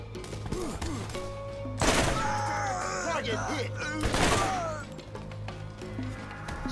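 Exploding sniper shots in the video game Borderlands: two sharp, loud blasts a couple of seconds apart, each with a crackling burst and trailing debris noise over a steady game background hum.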